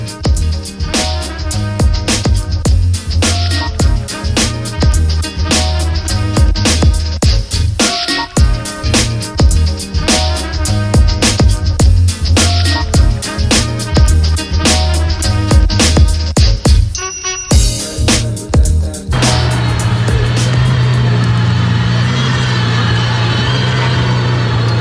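A Koenigsegg Jesko supercar at a London car show revs hard in loud, rapid bursts, its exhaust crackling and popping between revs, then settles into a sustained high engine drone at the end.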